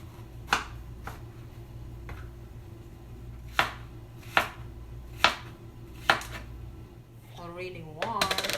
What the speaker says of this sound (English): So the first thing you have to do is cut this one into cubes.